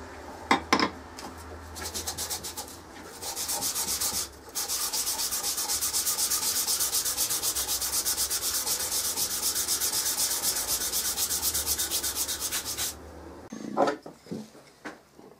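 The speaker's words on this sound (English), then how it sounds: "I've got to now sand the scratch marks out and get it all just right, doing it by hand" Knife scales are sanded by hand with 400 grit abrasive cloth on a flat surface, making a steady, close rubbing hiss that runs for about ten seconds between a few brief knocks, with no talk.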